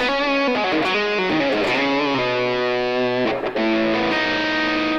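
Distorted electric guitar plays a minor pentatonic line over a Lydian backing track, with sustained bent notes and quick phrases, loud and continuous throughout.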